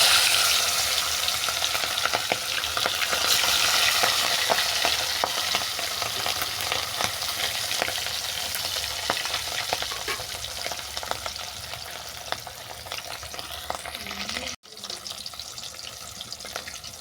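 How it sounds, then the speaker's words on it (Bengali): Hilsa fish pieces frying in hot mustard oil, browned on both sides: a loud, continuous crackling sizzle with intermittent stirring and turning sounds, briefly cut off near the end before picking up again. "মাছটাকে উল্টো পাল্টা বাদামি করে ভেজে নিচ্ছি"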